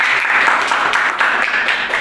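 Classroom of students clapping for a classmate, a steady, close, dense burst of applause lasting the whole short moment without a break.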